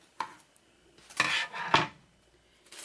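Scissors snip the small top hanger off a wooden sign in a few sharp, close cuts, with brief rubbing and clattering between them in a quiet room.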